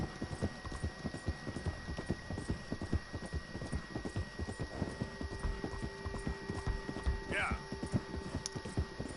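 Horse hooves galloping fast in Red Dead Redemption, with a quick, steady clip-clop rhythm running throughout, a brief whinny near the end and a low background hum.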